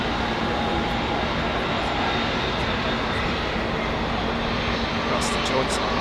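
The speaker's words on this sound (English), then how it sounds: "the odd spattering of westbound jets, like this American triple" An American Airlines Boeing 777 passes at Heathrow, its engines producing a loud, constant jet roar that fills the whole stretch, with a voice talking faintly underneath.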